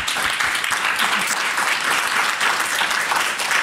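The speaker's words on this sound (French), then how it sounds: "On peut les applaudir." An audience at a startup fundraising workshop at an e-health conference applauds, a dense, even round of many hands clapping that holds steady and fairly loud for the whole stretch, with no voice on top.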